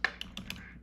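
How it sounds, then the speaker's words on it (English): Four or five quick, close keystrokes on a computer keyboard, light crisp clicks spaced irregularly over less than a second, fairly faint and without talk. "looking at my keyboard for typing"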